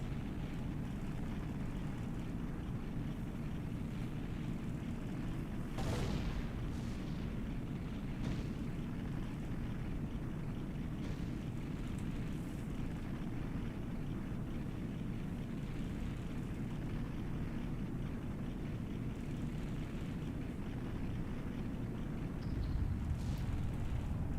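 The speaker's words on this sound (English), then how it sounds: "Nice little explosion there. The tower has crumbled" A tower crumbling in a large explosion in the video game Ocarina of Time, a sustained loud rumbling roar with a sharp burst near the start and heavy low-end debris noise continuing throughout.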